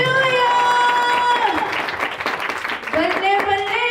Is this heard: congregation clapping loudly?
yes